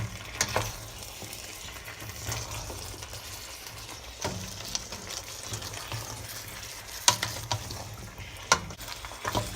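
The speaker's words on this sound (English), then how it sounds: "And then I'm going to add the rest of the coconut milk. And lower the heat till about medium." Panang curry with coconut milk sizzles in a pan while being stirred: a low, constant bubbling fry broken by sharp clinks and scrapes of the utensil against the pan, with no voices.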